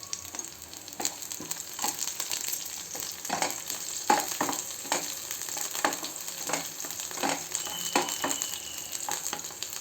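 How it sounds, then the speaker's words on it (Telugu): Green chillies frying in hot oil in a pan, a steady close crackling sizzle broken by frequent sharp pops and spits throughout, with no voices. "కొంచెం ఆయిల్ వేగిన కాగిన తర్వాత పచ్చిమిర్చి వేసుకుందాం ఫస్ట్"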